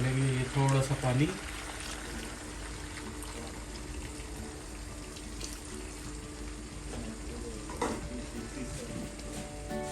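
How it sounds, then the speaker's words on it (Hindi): Water is poured into a pan of chicken karahi with tomatoes, setting off a loud sizzle and bubbling that settles into steady frying with stirring, under a voice talking. "इसमें हम डालेंगे ये थोड़ा सा पानी।"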